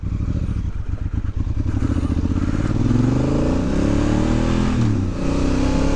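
A motorcycle being ridden hard on a Canary Islands road, loud and close, its engine chugging and then revving up through climbing pitches, with a brief dip before it pulls again.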